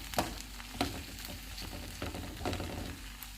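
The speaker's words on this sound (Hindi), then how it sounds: "ज़ीरा और खुश्क धनिया। अब इसको हम भूनेंगे 4-5 मिनट तक।" Cumin seeds and dried coriander frying in a pan for tawa chicken, a faint steady crackling sizzle with several sharp clinks and scrapes of a spoon stirring.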